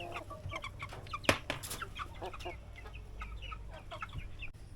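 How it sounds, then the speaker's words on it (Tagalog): Chickens clucking in their coop on a farm, a busy cluster of close, overlapping clucks and short calls with one sharp louder squawk, steady over a faint outdoor background, with no voices. "At dito rin ang place ng aming mga manok. Ito. Yan ang kulungan nila guys."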